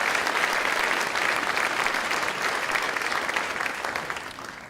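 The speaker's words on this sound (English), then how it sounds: "let's give them a round of applause" A dinner audience at a city Founders Day event claps for local supporters, a dense sustained round of applause that fills the room and begins to taper toward the end.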